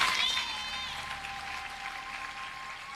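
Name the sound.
congregation applauding in church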